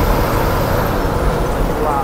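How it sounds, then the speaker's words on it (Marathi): A bus passing very close on a winding zigzag mountain ghat road, heard as a steady, loud broadband roar of engine and road noise with no pauses. "एवढ्या जवळून बस जाते"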